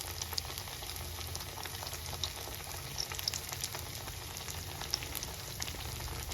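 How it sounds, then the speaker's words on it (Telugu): Banana flower vada, Tamil Nadu style, fry in hot oil with a steady, soft sizzle and sharp scattered crackles and pops, fairly quiet and without talk. "ఇట్లా లేస్గా ఒత్తుకొని ఇలా తీసేసుకొని రెండు వైపులా తిప్పుకొని వేయించుకోండి."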